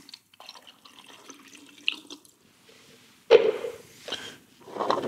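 Film fixer poured into a developing tank during home black-and-white film processing: quiet handling clinks and shuffles first, then a sudden close splash and gurgle of liquid pouring, fading and resuming briefly.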